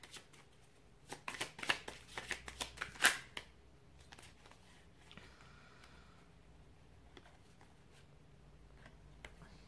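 Tarot cards shuffled near at hand in a brief cluster of riffling flicks and slaps, followed by quieter soft handling and rustles.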